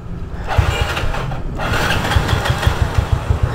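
A carbureted Yamaha Fino scooter engine starts up and settles into a steady, close, loud putter with a rhythmic low thrum, no talking.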